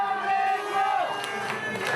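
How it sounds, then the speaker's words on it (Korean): Crowd of football fans cheering together in a city pub during a match, a broad sustained roar of many voices with rising shouts and some clapping. "밤을 잊은 뜨거운 응원전은 시내 호프집에서도 이어졌습니다"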